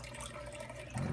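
Water trickles through an adjusted valve into a small DIY aquarium sump, a quiet, brief flow that swells a little louder near the end.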